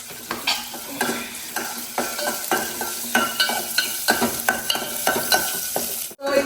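Onion and garlic frying in a pan for tomato chutney, steady sizzle with regular scraping strokes of a spoon stirring, close and continuous, a brief clatter near the end.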